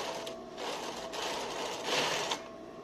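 A sewing machine stitches fabric pieces for a turban, making a quiet, rapid whirring and clattering in short uneven bursts.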